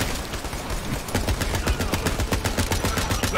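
Assault rifle gunfire in the video game Borderlands 3, loud rapid automatic bursts that start after a second and run as a dense, evenly spaced stream of shots to the end.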